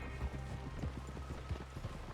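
Horse hooves clip-clopping at a walk in Red Dead Redemption 2, a steady rhythmic series of soft thuds heard fairly quietly against a low background.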